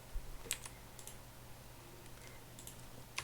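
Someone types a short comment on a computer keyboard, producing quick close clicks in a few bursts over a low steady hum, with no talking.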